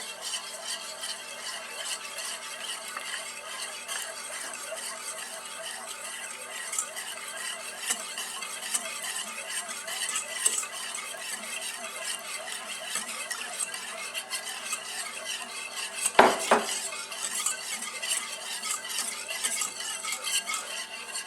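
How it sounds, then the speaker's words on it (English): Steady scraping of a spoon or whisk as half a cup of milk is gradually stirred into Dutch baby batter in a bowl, continuous and close, with one sharper knock near the end. "Now it says gradually stir in half a cup of milk"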